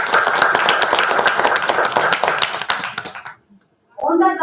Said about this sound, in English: Let's give a big round of applause for him.